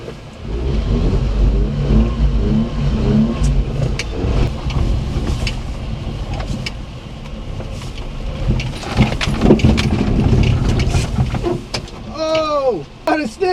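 A mini truck engine fitted with an airbox mod revs loudly and steadily on a dirt track, the roar continuous and close throughout, while excited voices shout over it.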